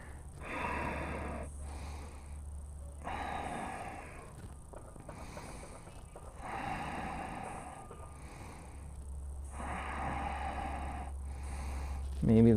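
Slow, deep breaths during a standing yoga pose in a vinyasa flow class, long inhales and exhales alternating every couple of seconds, close and fairly soft against a low background hum, with no talking.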